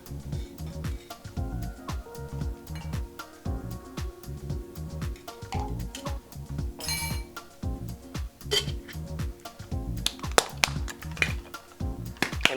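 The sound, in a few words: ice cubes added to cocktail shakers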